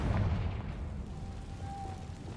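A Confringo explosive spell cast in Hogwarts Legacy lands as a single booming burst at the start, then a low rumble tails off with a faint ringing tone.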